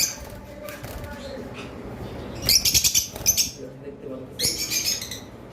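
Bursts of high, chattering lovebird chirps come in short clusters, with fluttering wing sounds mixed in over a steady low background hum.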